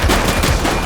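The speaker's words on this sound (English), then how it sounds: "Shots fired!" Gunfire from police action game The Precinct: a rapid, loud burst of shots fired close by, packed densely across under a second with no pauses, nothing else audible.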